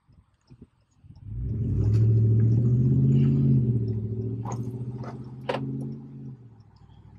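A Ram Rebel pickup revs up and pulls away, its engine swelling into a loud, close rumble that peaks and then settles. A few faint clicks come before it, and sharper ticks and clatter sound near the end, with no talking.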